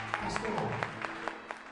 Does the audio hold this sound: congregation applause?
yes